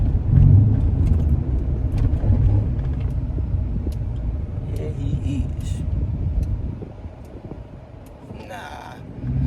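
Straight-piped Chrysler 300C with a Hemi V8 gives off a deep, steady exhaust rumble that runs throughout, with people talking over it.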